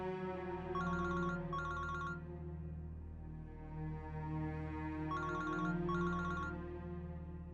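A telephone rings in repeated warbling double bursts, two pairs spaced apart, over a steady background hum.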